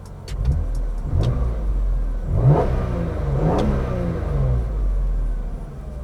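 A high-mileage BMW E46 M3 on its stock exhaust idles with a deep rumble, then gives two sharp rev blips that rise and fall, heard close by.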